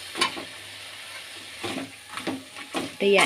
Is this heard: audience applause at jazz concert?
no